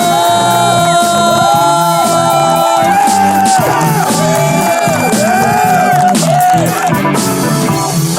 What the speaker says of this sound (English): You are already clapping.